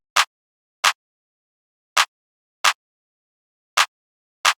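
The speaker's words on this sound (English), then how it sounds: "Then we have the clap, which is the BWB 6 clap 10." Clap drum sample BWB 6 clap 10 for a beat, six sharp, bright hits in pairs, spaced evenly and dry with silence between, no voices.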